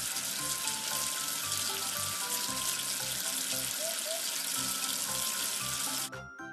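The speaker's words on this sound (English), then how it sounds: "Wash away the soap with water." Tap water runs steadily to rinse soap off a surface, a continuous broadband splashing rush that fills the whole stretch before cutting off abruptly near the end.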